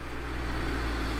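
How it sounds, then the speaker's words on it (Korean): A car passes outside as an audiobook sound effect, heard as a brief, steady, muffled low engine rumble with no talking. "밖에서 차 소리가 난다 싶더니"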